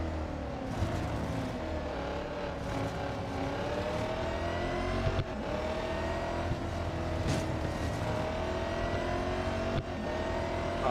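Racing cars roar around a track in the video game Real Racing 3, a steady, dense engine drone with shifting revs as cars pass close by. The engine sound runs continuously, with no talk.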